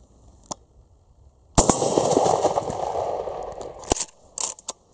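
A 12-gauge Uzkon LA887 lever-action shotgun fired at an outdoor steel target, one sharp close blast followed by a long rumbling echo, with a few smaller clacks and knocks of the lever and target afterward.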